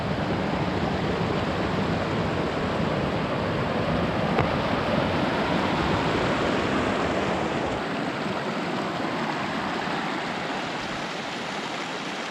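Creek water rushing along Miners Creek Trail in Colorado at high altitude, a dense, steady broadband hiss and roar of flowing water with some wind buffeting, constant and unbroken for the whole stretch.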